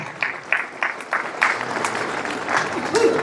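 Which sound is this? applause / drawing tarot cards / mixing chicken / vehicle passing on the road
applause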